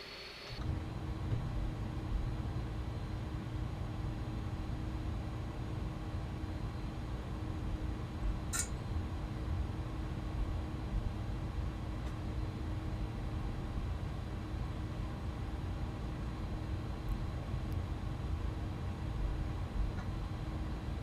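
Beluga A300-600ST airliner taxiing in a flight simulator game, a steady low engine drone and hum holding evenly throughout with no change in level, one brief faint click midway.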